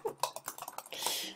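Rapid typing on a computer keyboard: a quick run of close, crisp key taps, about ten strokes, ending in a slightly longer clatter.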